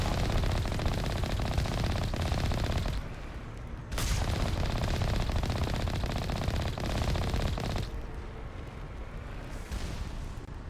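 Rapid automatic gunfire from the video game Mass Effect, played on Insane difficulty, rattles in loud sustained bursts, briefly dropping off near the middle before a sharp blast starts another long volley.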